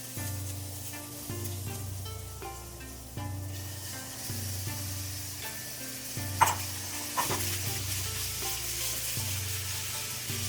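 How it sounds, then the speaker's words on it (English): Ginger and meat sauté in oil in a pan over medium-low heat, a soft steady sizzle under a repeating low hum, with a few stirring clicks midway, close and fairly quiet. "Heat the pan over medium-low heat and add oil. Sauté the ginger,"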